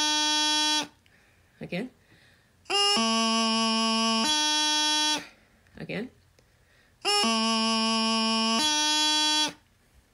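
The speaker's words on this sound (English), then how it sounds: "So that, putting those two notes together with the leading G grace note, sounds like this." Practice chanter playing a G grace note leading into low A, then D, sounded twice as a short phrase with steady reedy tones, each separated by brief spoken words.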